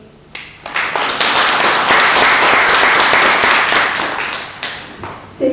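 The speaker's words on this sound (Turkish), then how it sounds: "Güçlü bir alkışı bir daha vermek üzere" An audience at a Tekirdağ Yeşilay award ceremony breaks into loud, sustained applause, a dense wash of many hands clapping that swells, holds for several seconds and tapers off.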